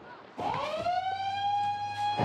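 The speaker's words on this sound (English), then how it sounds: "The shark alarm is off." A shark alarm siren blares at Bondi Beach, rising quickly into a loud, sustained electronic tone that holds steady for about two seconds against faint background noise.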